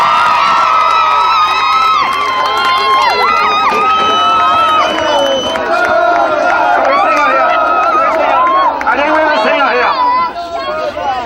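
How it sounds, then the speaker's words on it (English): Rowdy crowd at a 2001 Limerick senior hurling final celebration cheering, whooping and shouting for a group of players, loud and continuous throughout with voices and a few whistles mixed into the din. "And a big round of applause for this group of players again"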